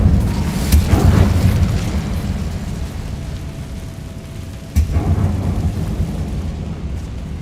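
A fire spell cast in Hogwarts Legacy releases a loud rumbling burst that sustains through the first half of the clip, then a second sharp whoosh-boom follows and fades into a continuous low roar.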